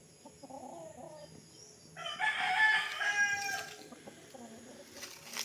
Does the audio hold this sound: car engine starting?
no